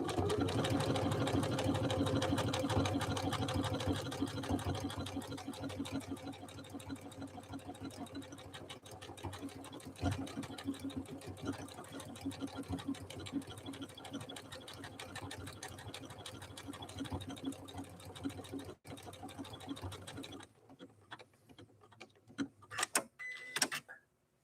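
A Janome Skyline S5 sewing machine runs at a slowed, steady pace with a continuous motor whir and needle chatter, close and even for about twenty seconds, then cuts out into a few light clicks and handling noises.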